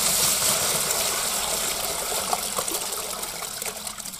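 Water poured into a container during a hands-on calving workshop demonstration at a Devon dairy farm, a steady continuous gushing and splashing pour that runs close and fairly loud for the whole stretch.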